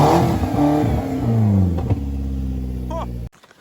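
A car with a 1.6-litre engine, a tired cheap used example, revs hard nearby in rising and falling surges before cutting off abruptly, with voices briefly audible.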